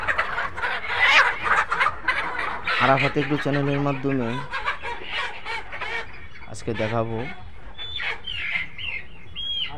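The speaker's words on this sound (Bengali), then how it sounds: "লেয়ার মুরগির" Layer hens cluck and call on a poultry farm, their bursts of clucking running under someone speaking close to the microphone throughout.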